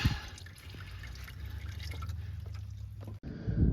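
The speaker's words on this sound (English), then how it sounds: "Pull the drain pan to where it'll catch all of it even when it slows to a drip." Engine oil drips and trickles from the drain plug of a 2010-2017 Chevrolet Equinox 2.4L Ecotec four-cylinder into a drain pan, a steady close liquid patter that breaks off briefly near the end.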